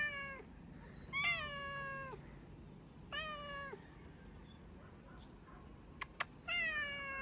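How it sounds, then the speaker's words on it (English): Cats meowing outdoors, several drawn-out, rising-then-falling meows spaced a second or two apart, fairly close over a quiet background hiss, with a couple of small clicks near the end. "kitties."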